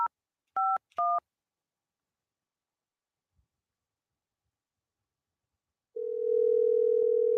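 Three short telephone keypad tones beep quickly in succession while a call is being placed, followed after a silent gap by a steady tone. All of it is faint and clean.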